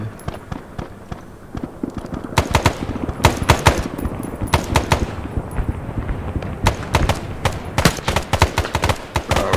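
Dense automatic and single gunfire bursts from a military firefight in Arma 3, sharp repeated cracks stacking over a constant battle rumble, loud and close, with quiet voices faintly in the mix.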